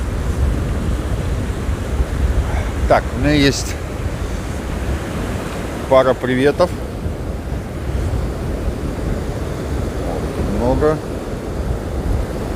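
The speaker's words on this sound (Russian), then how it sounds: "Но вот ветер вот просто поменялся и подул холодный." Cold wind and sea surf roar steadily on the beach at Anapa, with gusts buffeting the microphone while a person talks briefly over the wash of the waves.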